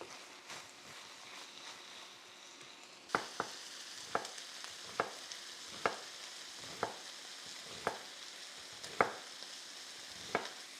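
Ground beef frying and browning in a pan, a steady sizzle that grows stronger after a few seconds, broken by repeated sharp scraping clicks from stirring or flipping.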